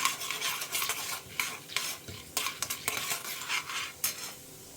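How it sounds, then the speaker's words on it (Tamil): Urad dal with fenugreek, coriander seeds and cumin being dry roasted in a pan, heard as a quiet, continuous scraping stir with light clinks of a spoon against metal. "வெள்ளை உளுத்தம்பருப்பையும் நல்லா ஃபஸ்ட்டு செவக்க வறுத்துக்கலாம்"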